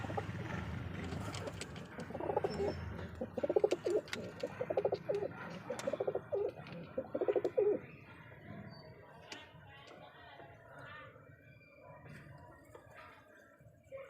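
Pigeons at a breeding station give repeated soft, throaty coos close by, overlapping one another with faint rustling and other bird calls in the background.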